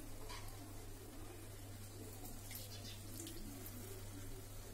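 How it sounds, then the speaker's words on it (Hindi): Water poured into a pan while cooking samak rice and potato tikki, a soft continuous splashing and hiss over a low steady hum, fairly quiet, with no talking. "तो इसमें हल्का सा पानी कम हो गया तो मैं थोड़ा सा पानी और डालूंगी।"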